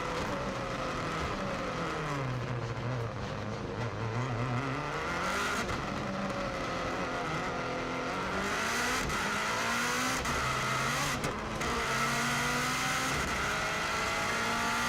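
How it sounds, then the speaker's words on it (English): A Subaru race car accelerates onto a flying lap at the Isle of Man TT circuit, its engine rising through the gears with steady, rasping revs and shifts heard from close range and loud throughout. "we're now accelerating for the flying start"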